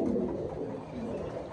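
A male Lahori pigeon coos close by, a short, low, throaty warble that holds steady and rounded for a moment.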